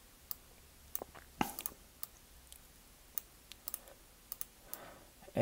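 A computer mouse clicks while designing a logo in Canva: faint, sparse, sharp clicks at irregular intervals in a quiet room with no talking.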